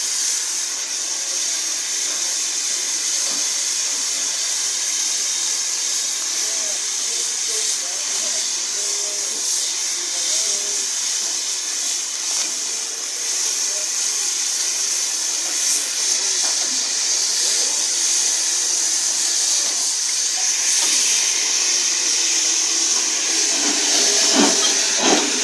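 Steam hiss from a railway train passing during trainspotting, a steady broad hiss that stays loud throughout with faint rumbling underneath and no speech.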